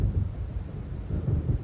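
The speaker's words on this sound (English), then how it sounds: "It seems there's a storm coming." A thunderstorm is approaching in the video game Alan Wake, a low rumbling roar with gusty swells of wind-like noise, continuous and fairly full, with no voices.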